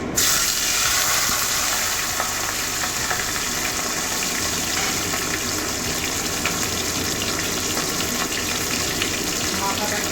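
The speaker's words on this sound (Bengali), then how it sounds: "তেলটা গরম হয়ে গেছে আঁচটা কমিয়ে দিয়েছি এবারে মাছের মাথাটা ভেজে নেবো" A catla fish head frying in hot oil over lowered heat in a pan, a steady, loud continuous sizzle and crackle with no break, with no voice over it.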